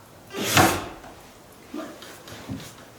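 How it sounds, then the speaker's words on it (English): An old wooden door in an abandoned general store is forced open with a loud scraping creak and thump, followed by two fainter knocks, with no talk. "I hope the door doesn't go flying."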